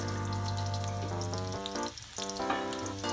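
Garlic frying in hot oil for pork dinuguan gives a steady close sizzle and crackle throughout, with a droning tonal hum underneath.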